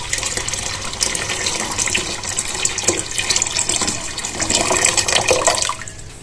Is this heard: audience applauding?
no